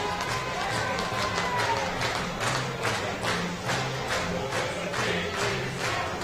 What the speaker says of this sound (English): the crowd, a great crowd at Blacktown International Sports Park, cheering along to that